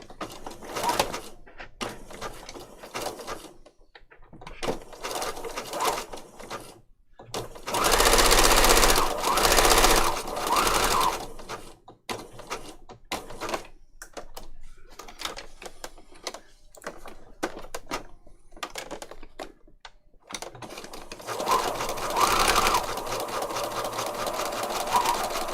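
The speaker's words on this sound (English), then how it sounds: "I see my machine skipped a stitch there" Close sewing machine stitching patchwork on paper, running in bursts of rapid clattering with stops between, including one loud sustained run and a steady stretch near the end; the machine occasionally skips stitches.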